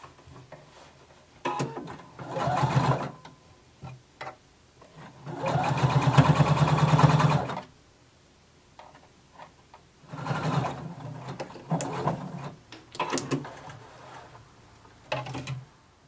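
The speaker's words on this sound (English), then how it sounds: "I'm going to sew very close to the folded edge to create my hem." A sewing machine stitches close to the folded edge of a jacket sleeve hem, a few close whirring runs, the longest about two seconds, with quieter gaps between.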